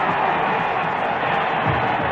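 A stadium crowd at the 1954 Grey Cup football game between Edmonton and Montreal, roaring after a touchdown: a broad, steady wash of distant cheering noise.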